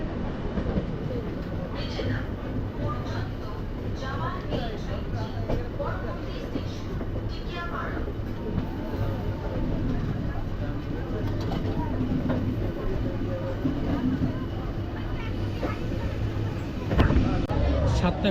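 Howrah–Digha Tamralipta Express pulling out of Howrah station, a steady rumbling train run with rail noise throughout, voices and crowd chatter underneath, and a brief louder clatter near the end.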